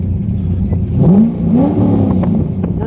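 A C5 Corvette engine turning over and catching after a struggling start, loud and close, with rising pitch sweeps as it revs and some clatter, and no talk.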